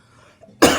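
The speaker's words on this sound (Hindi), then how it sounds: "सॉरी बच्चों खांसी आ रही है।" A single sharp cough bursts out after a brief quiet moment, loud and close, with a rough, breathy texture.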